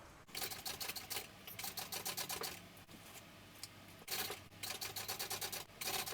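A sewing machine bastes a zipper onto a Sue Sue Sling at a 1/8-inch seam allowance, running in fast stitching bursts of a few seconds each, with brief pauses between runs, close and clear with no talking.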